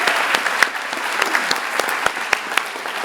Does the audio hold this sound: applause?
yes